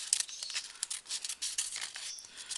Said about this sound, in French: je vais couper juste le petit bord là